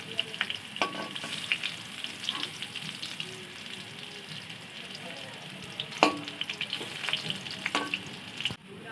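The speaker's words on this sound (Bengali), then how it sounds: "এইভাবে আলুটাকে ভালো করে নেড়ে চেড়ে ভেজে নেবেন।" Potatoes stirred and fried in oil in a pan, a continuous crackling sizzle with repeated spatula scrapes and knocks against the pan, close by and without talk.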